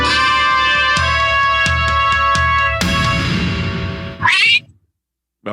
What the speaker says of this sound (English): somebody stepped on a cat over there